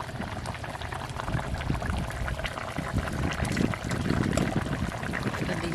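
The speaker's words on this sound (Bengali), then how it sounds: "ঝোল ফুটে গেছে, এবারে মাছগুলো দিয়ে দেবো।" Rohu fish and fish-roe fritters going into a simmering curry broth: a steady close bubbling and sizzling wash of liquid with faint clinks and splashes throughout.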